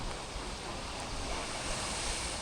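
Stormy North Sea surf pounds the shore during the tail end of a storm, a continuous loud wash of breaking waves and spray with gusting wind, no voices.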